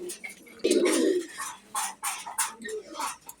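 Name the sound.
pigeons cooing at a farm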